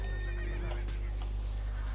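In a video game, a horse whinnies loudly over a steady low hum, with faint clip-clop of hooves. No one speaks.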